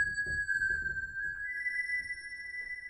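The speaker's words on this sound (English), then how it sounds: "I love that sound." A Korg Volca FM2 FM synthesizer holds a steady, bright multi-tone note throughout, layered over soft rhythmic low thumps, playing alone at moderate volume.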